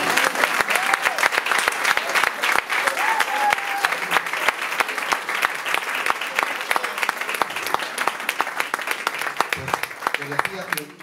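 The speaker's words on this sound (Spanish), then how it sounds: "Hay un aplauso para ellos." An audience at an evening tribute event for J. C. Calderón bursts into sustained applause, dense clapping from many hands that continues steadily, with some voices heard beneath it.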